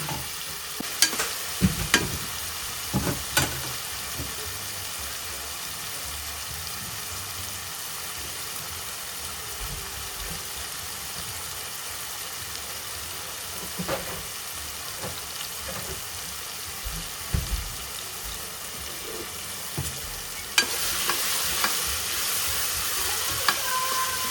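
Onion and tomato fry in a pan for a Tamil-style chicken masala curry, a steady soft sizzle broken by scraping stirs and occasional clinks of the spoon, with no voices.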